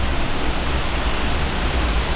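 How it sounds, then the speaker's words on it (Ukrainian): A steady, dense rush of falling water from a nearby waterfall in Oregon, loud and unbroken, with no other sounds. "Це був всього третій водоспад"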